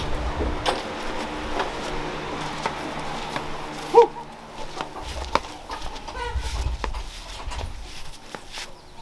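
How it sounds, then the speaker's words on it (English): Chickens on a homestead, near a newly installed chicken fence, cluck in scattered bursts in the open air, fairly faint amid rustling and outdoor background noise. "My chicken."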